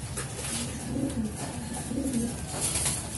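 A young racing pigeon coos softly and repeatedly, low rounded calls close by over a steady background hum.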